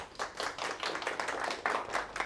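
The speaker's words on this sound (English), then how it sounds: "So round of applause, please, for Joao." A short burst of steady clapping from a small group of a conference audience, fairly soft and a little distant, with no voices.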